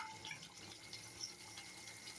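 Milk is poured into a pot for kadha as a soft, steady stream of liquid, quiet and continuous with no talking.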